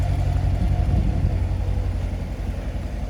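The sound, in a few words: 2017 Corvette coupe exhaust note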